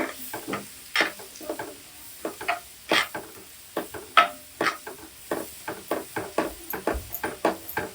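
Mustard seeds pop and crackle in hot oil in a pan for chivda, sharp irregular snaps coming close together over a faint sizzle, near and clear with no one talking.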